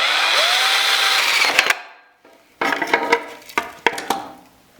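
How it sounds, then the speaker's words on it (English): A power drill with an old rusty bit boring into a table saw power box, first a loud sustained whining spin that winds down, then a series of short bursts of drilling after a brief pause. "drill out the area I need to be in"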